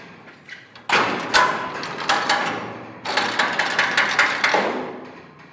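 Handle working the squeeze mechanism of a livestock squeeze chute, with two bursts of loud metallic clanking, ratcheting and thudding separated by a short pause, close and without talk.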